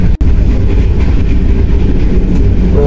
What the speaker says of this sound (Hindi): तो हमारे ट्रेन का सफ़र चल रहा है